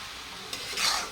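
Chicken keema with spices being sautéed in a pan, a brief close sizzle with a quick scraping stir swelling near the end.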